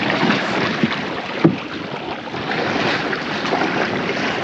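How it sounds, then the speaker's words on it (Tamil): Rising floodwater gives off a loud, continuous rushing wash that is steady and close, with a couple of small knocks and no voices. "அந்த வெள்ளத்தின் அளவு கூடிக்கொண்டு வருது."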